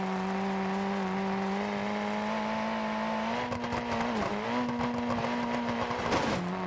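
A car engine in the BeamNG.Drive driving game, running on the Bajarama course and losing power, holds a steady drone that wavers and dips near the end, with tire noise and rough surface sounds rising over it.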